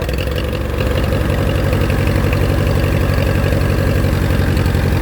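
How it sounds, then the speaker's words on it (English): A 1957 Allis Chalmers D14 tractor engine idles loudly and close just after the choke is pulled, a steady pulsing low chug with fast regular firing beats and slight knock, running alone without talk. "So this is a 1957 D14 Allis Chalmers, guys."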